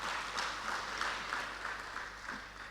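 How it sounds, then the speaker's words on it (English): An audience gives a round of applause at a stakeholders' validation session on a draft national policy: steady, dense clapping that holds at an even level for a few seconds with no voices over it. "I think he deserves another round of applause."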